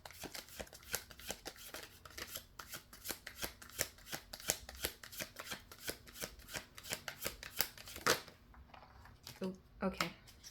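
Tarot cards being shuffled: a rapid run of crisp, close flicks and snaps in a steady rhythm, then a pause and a few final slaps as the deck settles.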